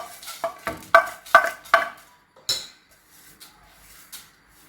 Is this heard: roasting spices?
yes